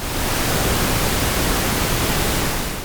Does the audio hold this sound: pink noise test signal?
yes